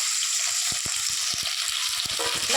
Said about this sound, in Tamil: வெங்காயம் நல்லா செவக்க வறுக்கும்